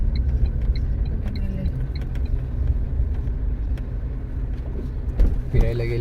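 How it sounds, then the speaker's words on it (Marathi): A car pulls away from a house, a steady low engine rumble and road noise rolling on throughout, with faint background voices. "मल्हारचे गोविंद काका गेले हो गाडी घेऊन"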